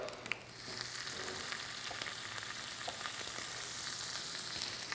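Butter sizzling and frying steadily in a hot pan as it browns, a continuous crackling hiss with small pops at close range and no talking.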